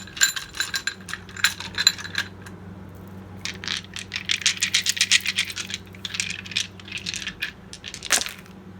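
Dice clatter and rattle in bursts, loud and close, with clicking tumbles and scrapes as they are drawn and shaken, a short pause between rounds, then one last sharp knock.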